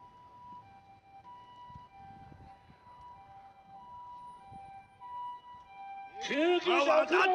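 An ambulance siren wails loudly near the end, its pitch sweeping up and down, after a stretch of faint steady tones and low background noise.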